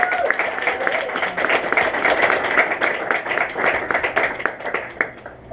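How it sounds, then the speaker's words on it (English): An audience claps for the Jacksonville Progressive Coalition at a community history event, lively uneven applause with distinct individual claps, fairly loud and near, fading slightly toward the end. "yeah, let's give them a round of applause."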